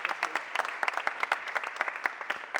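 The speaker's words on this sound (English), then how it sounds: "Give Dr. Boyd a round of applause." A small crowd at a mayor's press conference claps, a quick scattered patter of hands at moderate distance, steady for a few seconds.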